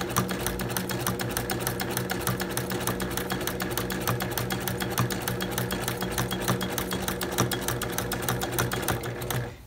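A sewing machine with a walking foot stitches curved quilting lines, its needle hammering in a fast, steady, even rhythm, close and loud for nearly ten seconds before stopping.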